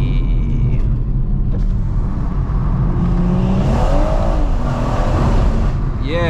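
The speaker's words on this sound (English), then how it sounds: "listen to that B58, man. Look, foot down." A 475 bhp BMW M140i Shadow Edition with a B58 engine and stage 3 gearbox flash, accelerating hard in manual mode: loud, continuous rising engine roar heard from inside the cabin, with brief talk over it.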